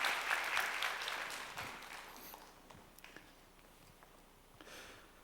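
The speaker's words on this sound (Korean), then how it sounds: "하나님께 영광의 박수 올려드리겠습니다." A church congregation at a youth worship service applauds, starting moderately strong, then fading to scattered, faint claps and small taps.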